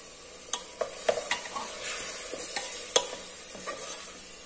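Tomato puree and spices for chole sizzle softly in a pan while a spoon stirs through them, making a series of scraping taps close by at low volume. No one speaks.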